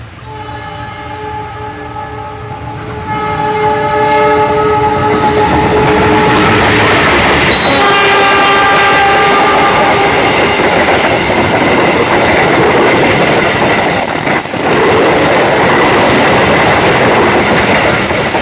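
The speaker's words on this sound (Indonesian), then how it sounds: "Tunggu bersilang dengan kereta api Mutiara Selatan dari stasiun Malang tujuan akhir stasiun Bandung." An Indonesian Galunggung passenger train waits to cross the Mutiara Selatan train, bound from Malang for Bandung; long sustained horn tones sound while the passing train builds into a loud, steady rumble with wheel clatter.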